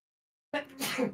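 One person sneezes once, close and loud, after a moment of silence.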